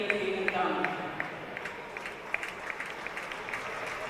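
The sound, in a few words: applause at the World Ball Hockey Championship opening ceremony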